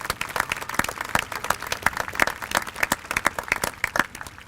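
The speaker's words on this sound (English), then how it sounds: "Please give them a nice round of applause." Graduation audience applauding at a high school ceremony, dense steady clapping from a large crowd that stays fairly even throughout with no talk.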